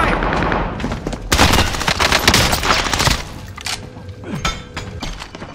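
Rapid gunfire from a Warzone video game weapon, about forty shots in a dense, loud volley that tapers off. A clinking reload and a few scattered single shots follow.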